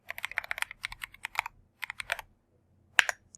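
Guest email addresses typed on a computer keyboard, rapid bursts of crisp close key clicks in short runs separated by pauses, ending with one sharper keystroke.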